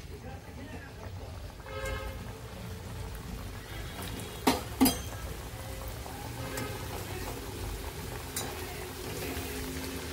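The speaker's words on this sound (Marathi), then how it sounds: "आता आपण हे वडे तळून घेऊया। तेल तापलेलं आहे आपलं।" Urad dal and sesame vadas fry in hot oil, a soft continuous sizzle and crackle with a couple of brief clinks, heard beneath a voice talking throughout.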